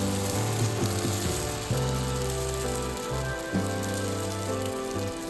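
Dosa batter sizzles in a hot pan while a thin pork dosa is spread and cooked, giving a continuous crackling fry under a steady background of musical tones.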